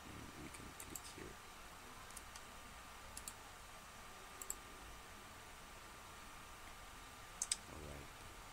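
A few sharp, faint computer mouse clicks scattered over a quiet room hiss while working in ArchiCAD 18 software, with a brief double click near the end.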